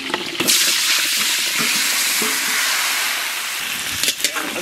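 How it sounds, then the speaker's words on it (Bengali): Potatoes frying in a pan for a rustic village-style fish curry meal, a steady broadband sizzle and hiss running throughout with occasional stirring clatters, fairly close and loud. "আলু ভেজে নেব"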